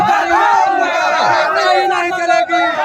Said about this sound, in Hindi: भीड़ काफी फैल के प्रदर्शन कर रही है, लगातार नारेबाजी कर रही है।